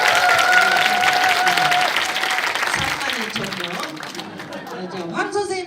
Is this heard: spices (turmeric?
no